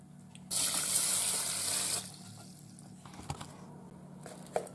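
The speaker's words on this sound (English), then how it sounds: "I'm going to do 1 cup of water as well." Water from a cup poured into a Ninja Foodi cooking pot along with rice, a brief loud gush of about one and a half seconds, then quiet kitchen background with a few small clinks.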